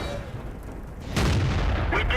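A tank cannon fires in World of Tanks with one loud, broad boom that stays sustained to the end of the short stretch.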